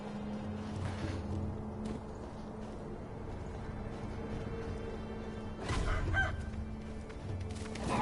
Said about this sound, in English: Bro, I just got killed by a chicken.